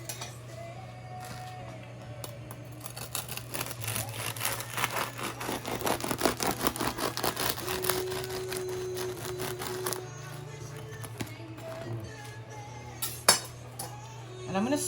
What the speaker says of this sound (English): So now, I'm gonna cut my bread open.